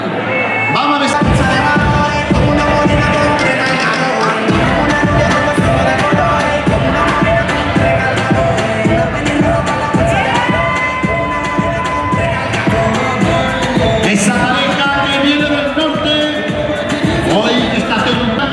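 A carnival adult costume contest audience in Dos Torres, Córdoba, claps and cheers over lively music, the applause and whoops continuing steadily throughout, with an announcer's voice heard amid the noise.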